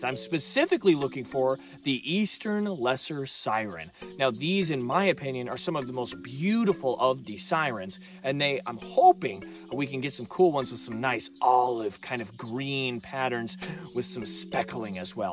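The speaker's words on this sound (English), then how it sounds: "tons of fish and frogs. You can hear them all behind me." Steady, shrill insect and frog calling around a swamp in the southeastern United States, heard continuously beneath someone talking close up throughout.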